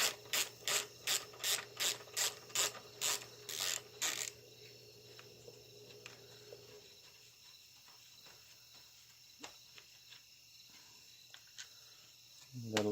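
A hand ratchet undoes 8mm bolts on the carburetor cover of a Craftsman push mower: about a dozen loud, evenly spaced ratcheting clicks up close, then quieter scattered metallic taps and handling over a steady low hum.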